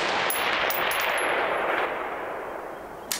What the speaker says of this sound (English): Let's go ahead and get some lead on steel at distance